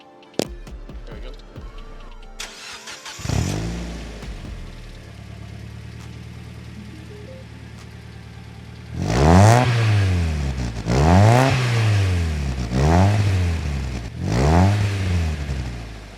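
A Mazda Miata with a new exhaust cranks and starts, settles into a steady idle, then is revved hard several times in repeated rising and falling bursts, loud and close, with brief talk before the start.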